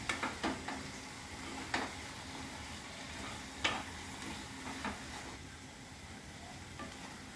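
Bitter gourd stirs and fries in a pan with a steady low sizzle, broken by a few sharp scraping clicks of the spatula, fairly quiet and alone with no voices.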